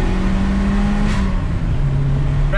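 A 1994 Toyota Celica GT-Four turbocharged engine pulls hard under acceleration, a loud steady drone from inside the car with a slight pitch drop as it shifts gear.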